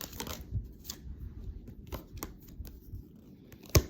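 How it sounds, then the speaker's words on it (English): A deck of tarot cards being shuffled, with soft scattered riffles and flicks at close range, quiet overall, plus one sharper tap near the end. "with all of that shuffling that I did"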